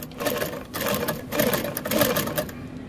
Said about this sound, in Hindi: चलिए मशीन सिलाई भी सही दे रही है